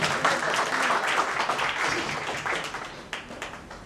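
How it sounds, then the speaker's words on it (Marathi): Loud, dense applause from a reunion gathering in a hall greets the chair madam, sharp claps massed together and fading slightly toward the end. "जोरदार टाळ्या मॅडमसाठी"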